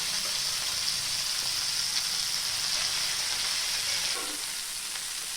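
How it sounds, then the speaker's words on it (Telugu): Boiled moong dal frying in ghee in a pan, giving a continuous bright sizzle with faint stirring scrapes, fairly close and steady, easing slightly near the end. "మనం ముందుగా పెసలు ఉడకబెట్టుకున్నాం, వాటిని ఆ నేతిలో వేసుకొని వేయించుకోవాలి."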